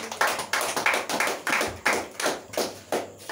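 Congregation at a church service clapping in a steady rhythmic beat, about two claps per second, hands close and fairly loud with no talk over them.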